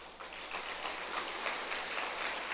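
Church congregation applauding at a Sunday service, a steady dense wash of many hands clapping together, fairly soft and distant, with no voices over it.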